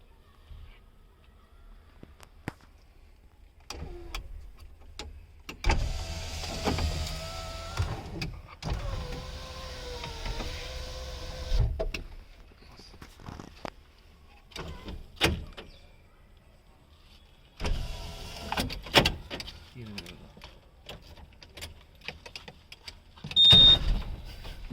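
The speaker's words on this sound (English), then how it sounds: "This is the power window switches." Power windows on a modified 2011 MPFI Euro 3 Gypsy hardtop being run by their switches, with two stretches of close electric motor whine and switch clicks separated by quieter cabin noise.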